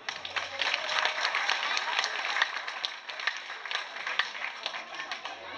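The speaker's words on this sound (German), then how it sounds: "Applaus bitte" An outdoor crowd at a village heritage day gives a round of applause, brisk and fairly close, with individual claps standing out and some voices mixed in.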